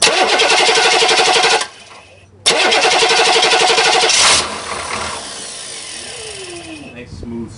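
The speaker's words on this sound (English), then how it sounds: "this time with the glow plugs disconnected. You can hear it crank and crank and crank and crank and crank" A starter motor cranks an engine with its glow plugs disconnected, a loud steady rhythmic churning that stops briefly, resumes, then winds down into a smoother fading spin.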